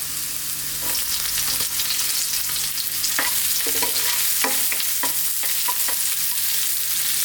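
Onions going into hot oil infused with ginger for a vegetable stir fry over high heat: a continuous sizzle broken by sharp clacks of stirring.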